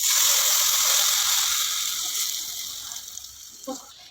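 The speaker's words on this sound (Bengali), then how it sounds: "এবার আমি গরম তেল এটার মধ্যে ঢেলে দিচ্ছি" Hot oil poured into a bowl of homemade mango pickle salted without turmeric gives a loud, steady liquid gush and sizzle that slowly fades over a few seconds.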